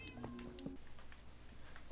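A Minecraft cat gives two short meows close together at the start, quiet and small, followed by faint game ambience.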